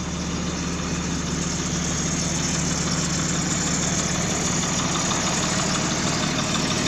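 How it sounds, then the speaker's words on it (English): A diesel generator hums steadily aboard a 2003 Triple E Empress 3852FB Class A diesel motorhome, a constant low engine drone with no pauses and no voices. "I've got it running on generator right now."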